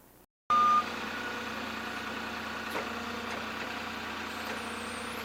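A Lowe's delivery truck idles steadily during unloading at a remote site, a continuous low engine drone starting abruptly after a brief gap, with one faint knock partway through.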